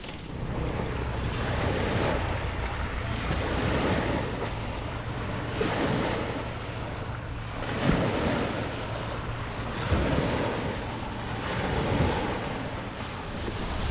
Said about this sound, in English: The wind is quite strong here.